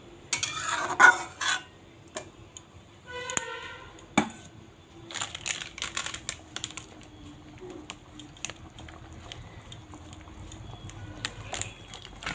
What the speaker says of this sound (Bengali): এখন এই যে ভেজে রাখা সয়াবিনগুলো এর মধ্যে ঢেলে দেব।